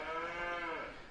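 Cattle moo at a livestock show, a single sustained bovine call with a rich harmonic tone, moderately close and clear, with no voices over it.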